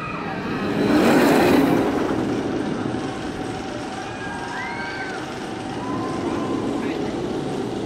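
The Full Throttle roller coaster at Six Flags Magic Mountain roars along its track, a surging rumble that swells loud early then settles into a steady rushing drone, with faint riders' voices and screams mixed in.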